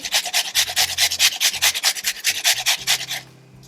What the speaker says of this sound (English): I'm also going to grate in some onion.